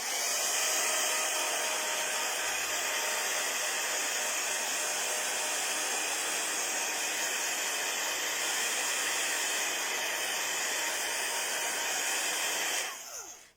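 Hair dryer blowing steadily and loudly to speed-dry a layer of acrylic-based gesso primer, a continuous airy roar that holds for about thirteen seconds before cutting off abruptly at the end, with no talking over it.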